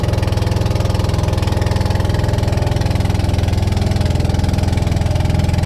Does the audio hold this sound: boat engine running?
yes